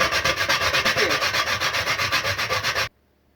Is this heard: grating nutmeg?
yes